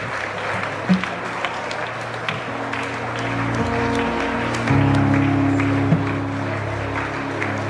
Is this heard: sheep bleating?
no